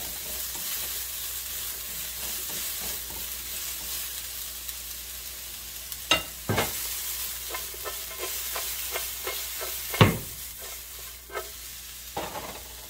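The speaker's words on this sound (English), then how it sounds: "Saute all the onions." Chopped onions sauté in a hot pan for a burrito filling, giving a steady close sizzle with occasional clacks and scrapes from stirring.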